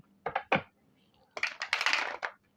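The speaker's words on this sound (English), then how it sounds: "if you need to stay here to watch me shuffle the cards, you can stay" Tarot cards are shuffled by hand in two quick short riffles, a pause, then a longer rustling riffle that snaps to a stop, close and fairly quiet.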